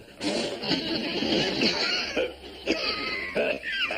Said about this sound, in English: You've been coughing an awful lot lately.